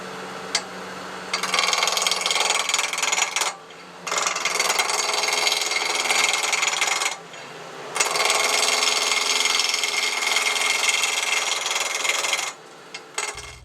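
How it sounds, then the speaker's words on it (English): A roughing gouge cuts wood spinning on a lathe, a loud continuous scraping rush that comes in several long passes of a few seconds each with short breaks between them. "We start out with a roughing gouge."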